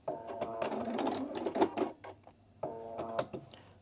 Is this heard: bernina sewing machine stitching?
yes